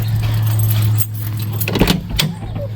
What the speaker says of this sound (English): And I got my keys with me. Hear them jingling and jangling.